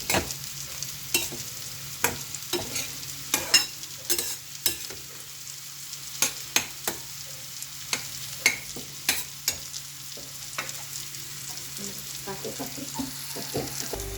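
Vegetables fry and get stirred in a pan: a low steady sizzle broken by sharp, irregular spatula scrapes and clacks against the pan, close and fairly loud, with no talking.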